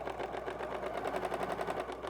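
A serger-style sewing machine running with differential feed at a short stitch length, a fast even mechanical whir with a steady rapid stitching rhythm, close and continuous with no talk.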